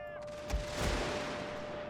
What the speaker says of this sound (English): now they're shooting up the flank around the cannons